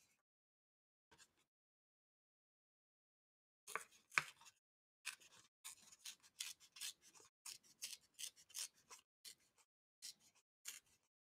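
Scissors snip through a handmade card with a run of crisp, close, quiet cuts in an uneven rhythm, with a few isolated snips beforehand and no talking.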